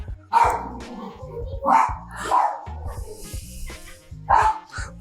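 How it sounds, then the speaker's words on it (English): A dog barks in several sharp, loud bursts at irregular intervals in a garage-like space during a budget scrambler motorcycle build, with a low mechanical hum underneath and someone talking between barks. "The dog hasn't barked in a while and I just started recording."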